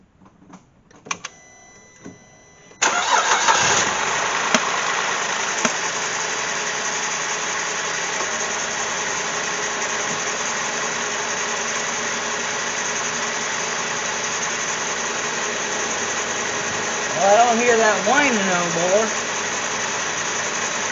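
A Cadillac CTS 3.6-liter engine cranks briefly and catches, then settles into a steady idle with a high whine on top; a voice speaks near the end.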